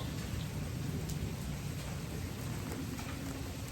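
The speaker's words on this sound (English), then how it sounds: "I'm distracted by the rain." Rain falls steadily and heavily as a dense, even hiss with low rumbling underneath, close and continuous, with no talking.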